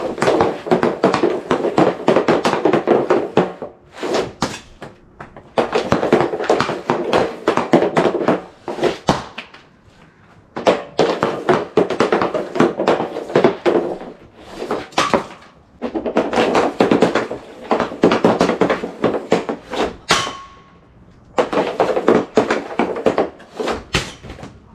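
Hockey pucks shot with a stick at a net, sharp cracking impacts in several clustered bursts separated by short quiet gaps, loud and close.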